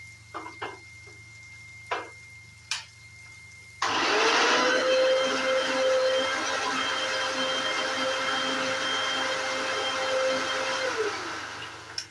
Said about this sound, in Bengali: এখানে আমি রেখেছি কাঁচা লঙ্কা, রসুন, আদা, এটাকে আমি আধা বাটা করে নেব, পুরো পেস্ট করব না